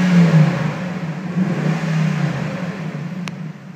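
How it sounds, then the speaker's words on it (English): A 2009 Jaguar XK engine revs steadily with a deep, continuous exhaust roar and mild swells in pitch, close and loud throughout with no talking. "And we'll rev the engine a little bit for you so you can hear."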